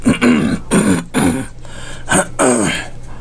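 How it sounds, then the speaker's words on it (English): Several rough, raspy throat-clearing bursts in a row from a person with postnasal drip, close and fairly loud, separated by short pauses. "I clear my throat a lot because of postnasal drip"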